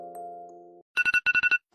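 A phone alarm ringtone goes off, a sustained chiming tone followed by a burst of rapid, evenly spaced electronic rings, loud and close with nothing else heard.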